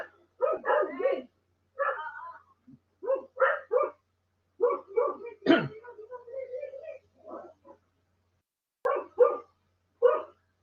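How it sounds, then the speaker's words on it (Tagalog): A dog barks in repeated short bursts and yips, fairly close and loud, spread across the stretch with brief pauses between volleys and no talk over it. "Maingay lang po yung aso."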